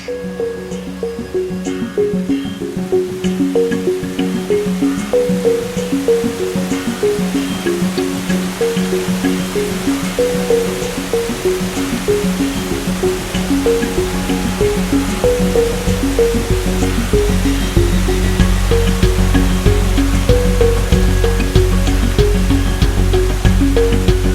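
A waterfall pours in a steady, continuous rush that builds slightly louder toward the end, with a faint tonal background layered over the water.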